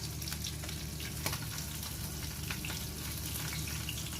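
Bata fish fries in hot oil in a home kitchen while a Bengali fish curry is prepared, a steady, fairly quiet sizzle and crackle with small pops, continuous throughout and free of talk.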